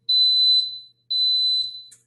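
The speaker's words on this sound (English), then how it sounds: "A little beeping indicator." An Instant Pot sounds two loud, clear electronic beeps in a row, each a steady high tone lasting under a second, followed by a short faint chirp, alone in a quiet kitchen.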